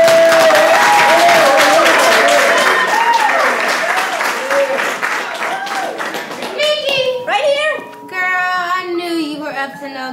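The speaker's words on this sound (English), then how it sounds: "I need y'all to give a round of applause for my partner, Julia." Applause and clapping from an audience at a gathering in a gangland drama, loud at first with cheering and voices rising over it, then thinning as whoops and chatter take over.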